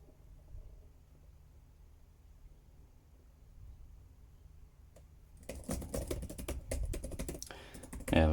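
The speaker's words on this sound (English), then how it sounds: "Let me just try and type some notes." Typing on an iPad Pro keyboard accessory: a near-silent stretch gives way to a dense burst of rapid, close key taps that runs to the end.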